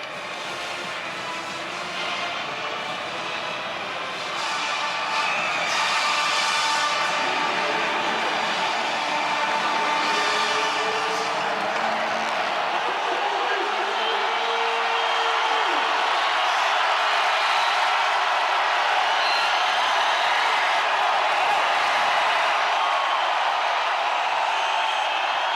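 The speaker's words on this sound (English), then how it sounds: "Let's see the crowd and the energy from them." A football stadium crowd at a Navy vs North Texas game roars before a fourth down, a broad, steady wash of cheering and noise that swells and stays loud throughout.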